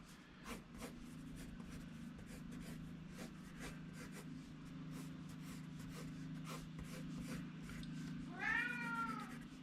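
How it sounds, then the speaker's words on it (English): A cat meows once near the end, a clear rising-and-falling cry over a low steady hum and scattered faint taps. "All right, kitty."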